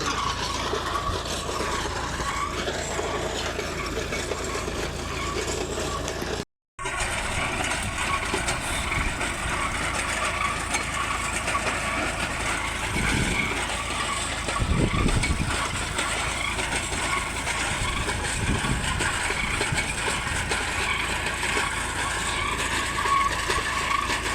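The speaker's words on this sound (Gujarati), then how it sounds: "અત્યારે બોર ચાલુ છે, મારો અવાજ તમને નહીં આવતો" A borewell drilling machine running on site, a steady loud mechanical engine drone with rumbling, grinding drill noise that persists throughout, apart from a brief dropout.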